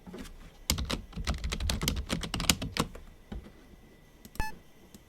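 Rapid typing on a computer keyboard followed by a sharp click, a steady run of close key taps that trails off before a single louder click near the end, with no talk.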